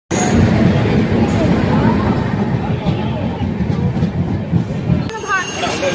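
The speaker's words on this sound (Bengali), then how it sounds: "ট্রেন ঢুকে গেছে," A train pulls into a station platform with a loud continuous rumble and rolling clatter, amid crowd babble and nearby talking.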